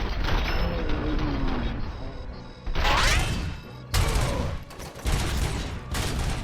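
Grenades explode in a RoboCop: Rogue City shooter battle, with loud sharp blasts around three and four seconds in and a later burst, set against continuous mechanical combat noise.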